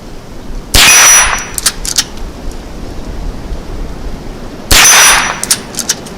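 Two sharp shots from a Browning BL-22 lever-action rimfire rifle with a peep sight, fired outdoors at a steel target 25 yards away. Each crack is followed by a bright ringing clang, with the two spaced a few seconds apart and no talk.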